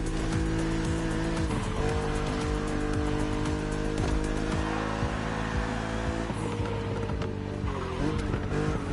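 A BMW Z4 roadster races in The Crew Motorfest, its engine droning loud and constant with tyres squealing and skidding through corners against an aggressive opponent.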